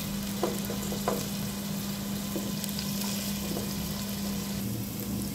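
Filipino food frying in hot oil makes a steady, continuous sizzle with a constant hum underneath and a few soft clinks and stirs.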